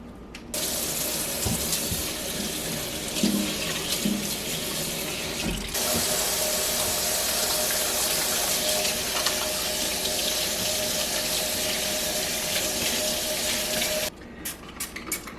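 Water runs steadily from a tap into a kitchen sink for cleaning after raw poultry, a loud, close, continuous hiss and splash that starts abruptly and stops near the end.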